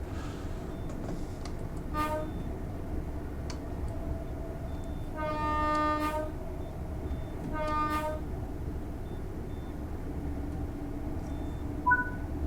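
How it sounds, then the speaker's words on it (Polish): A Class 801 train's horn in Train Sim World 4 sounds in three loud harmonic blasts, a short one, then a longer sustained one, then another short one, over a steady low rumble of the train in motion. "czyli tu mamy trąbkę"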